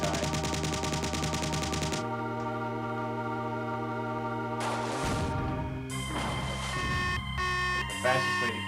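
An alien weapon firing in the Marathon video game, a sustained tonal electronic buzzing that shifts pitch in stages, continuous and loud throughout.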